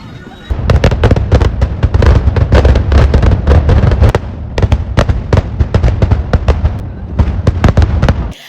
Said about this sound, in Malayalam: ഇനി അടുത്ത മഴ വരുമ്പോഴത്തേക്ക് നമുക്ക് പടക്കം പൊട്ടിക്കണം